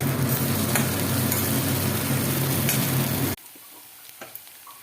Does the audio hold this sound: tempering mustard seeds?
yes